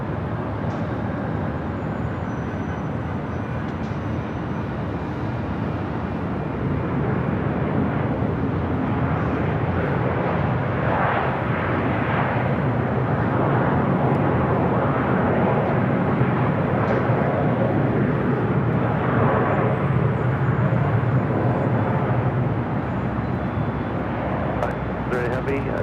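A Boeing 777 heavy jet lands on runway 24 right at Los Angeles International Airport, a broad, loud engine roar swelling and holding steadily for the whole stretch, with speech faintly present.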